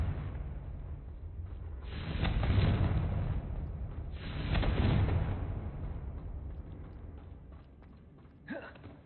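Confringo blasting spell in the video game Hogwarts Legacy, two muffled, rumbling explosions swelling and fading a couple of seconds apart, quiet and distant-sounding.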